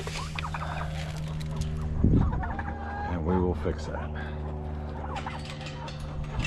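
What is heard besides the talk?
chickens clucking in the coop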